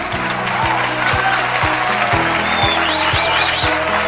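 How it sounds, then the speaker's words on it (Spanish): Applause from an audience at a public health programme event in Maipú, Chile, a steady even clatter of clapping throughout, with a low rhythmic thumping beneath it. "Démosle un fuerte aplauso y comencemos con nuestro programa de hoy."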